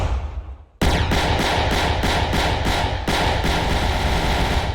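Rapid aircraft cannon fire from an F-18 Super Hornet in a Roblox game, a loud continuous burst that starts abruptly after a short fading engine hum and rattles on with steady pulsing rhythm.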